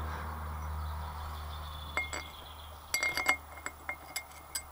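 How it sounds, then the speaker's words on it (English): Metal bolts clink and tap as they are set back into an air compressor during a reed valve repair, a few sharp close chinks against a low background hum. "put the bolts back in"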